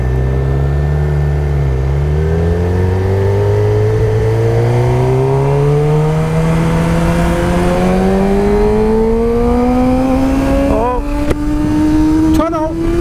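Motorcycle ridden at night, a steady engine drone rising slowly in pitch as it accelerates, loud and close with constant wind rumble, a couple of brief clicks near the end and no talk.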